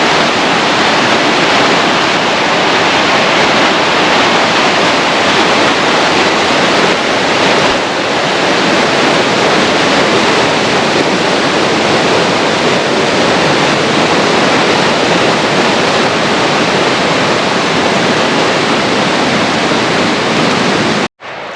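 Strong creek flow in the Poconos' Paradise Price Preserve, close beside a wooded trail, a loud unbroken rushing wash lasting throughout and briefly cutting off at the very end, with no voices.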